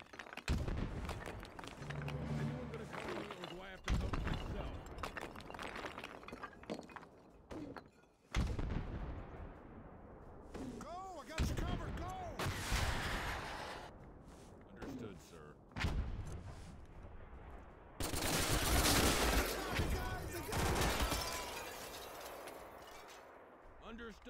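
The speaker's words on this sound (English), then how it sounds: "Launching mortar." Mortar launches and artillery fire in a military video game: repeated heavy booms and thumps with crackling gunfire between them, loud against battlefield effects, while voices call out in the background.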